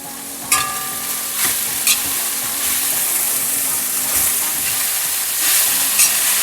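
Chopped sicklepod leaves for a Kerala thoran frying in a hot pan, a steady loud sizzle and hiss with several scraping stirs of a spoon against the pan, no voices.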